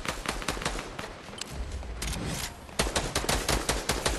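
Gunfire in Fortnite rattles off as rapid, sharp shots in a continuous stream. A denser, louder burst of quick reports comes toward the end.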